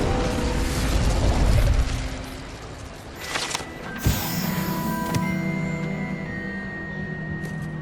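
A fire spell cast in Hogwarts Legacy gives a whooshing burst with a sharp pop near the middle, among mechanical game effects and low rumble, with no talking.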